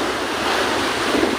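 Sea waves crash continuously onto Masao Beach, heard as a loud, broad roar of surf mixed with heavy wind buffeting the microphone, with no talking.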